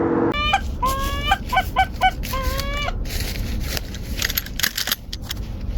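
Canada geese calling on an Eastern Montana hunt, a run of honking calls in quick bursts for the first few seconds, fairly close, over a steady windy outdoor background that carries on after the calls fade.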